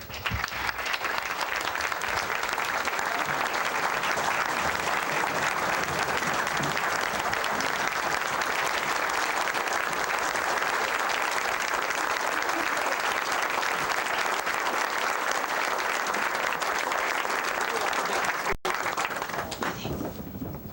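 A large audience at a 1990 Citizen of the Year award ceremony gives loud, sustained applause, a dense, unbroken roar of clapping lasting about twenty seconds.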